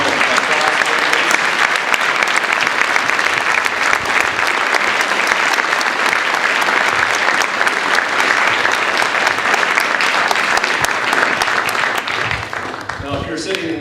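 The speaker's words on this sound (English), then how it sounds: "Give them a round of applause, please." School Veterans' Day program audience applauding veterans in a gym or auditorium: sustained loud clapping from a large crowd, steady for over ten seconds before tapering off.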